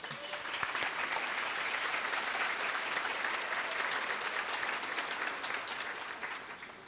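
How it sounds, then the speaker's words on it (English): An audience at a YWCA of Rock County event claps in a sustained, even wash of applause, fairly faint and distant, holding steady for about seven seconds before easing off. "Let's celebrate that with a round of applause."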